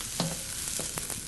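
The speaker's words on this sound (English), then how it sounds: "So we're going to actually lightly saute this." Vegetables sauté lightly in a pan with a soft, steady sizzle and a few brief scrapes from stirring, close and fairly quiet.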